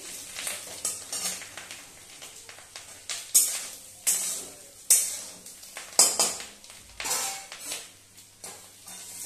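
Fish roe sizzles as it fries in a pan, steady hissing broken by a series of sharp scraping and clinking stirs of a utensil against the metal, close and fairly loud, with no speech.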